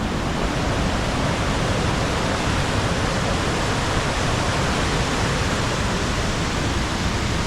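A Yosemite Valley waterfall close by sends out spray with a dense, constant broadband roar, loud and unbroken, with no other sounds standing out.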